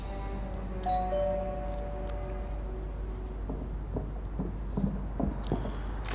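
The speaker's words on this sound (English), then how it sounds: "So let's ring the doorbell, shall we?" A two-tone doorbell chime rings once, clear and close, in the video game The Darkness, followed by soft background game ambience with faint clicks.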